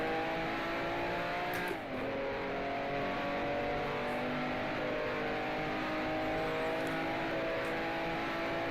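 The engine of a 1967 Cooper Formula 1 car in the racing game Grand Prix Legends, at the Grenzl track, drones loudly and steadily, with one quick gear change early on before holding a high, sustained pitch.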